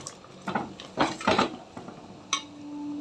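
A spoon stirs sambar powder into a pot of radish dal sambar, scraping and clinking against the metal in several short bursts, close by with no talking.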